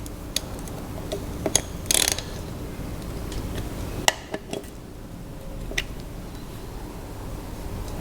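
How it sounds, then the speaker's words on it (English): A wrench working on the crankshaft end cap bolts of an Evinrude 150 outboard, sparse metallic ratchet clicks and clinks at irregular moments against a quiet background. "just put this onto a normal wrench and just go that smidge beyond finger tight"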